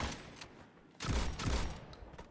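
Guns fire in a shooting video game practice map, heard as quiet bursts of rapid shots, with a louder volley in the second half against low background noise.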